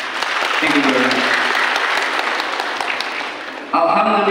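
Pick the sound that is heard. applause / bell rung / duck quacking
applause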